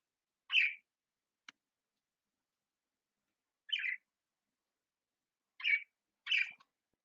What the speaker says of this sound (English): the birds will eventually go into the cage when they're ready